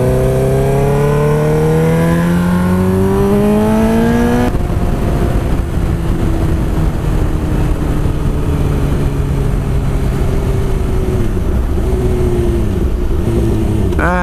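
Suzuki GSX-R 750 motorcycle engine pulling away on a road near a roundabout, loud and close: revs climb steeply, a gear change cuts in, then a steadier drone with wind roar and small dips, no talk.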